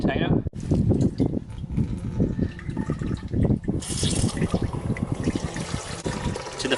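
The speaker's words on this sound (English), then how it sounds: "Now what we want to do is we want to fill up the container." Water pouring steadily into a container being filled to 5 litres for a lawn treatment mix, a continuous splashing trickle with a short break near the start, close and fairly loud.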